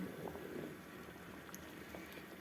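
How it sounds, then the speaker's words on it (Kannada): Rice and millet bubble gently in a pot, a faint, steady simmering burble with no voices. "ಇನ್ನೂ ಒಂದು 5 ನಿಮಿಷ ಇದನ್ನು ಹೀಗೆ ಕುದಿಸೋಣ."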